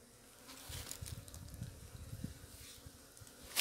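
Honeybees buzz around a captured queen bee being moved into a hive box at a garbage dump, a soft, fluctuating hum with brief louder passes that rises again at the end.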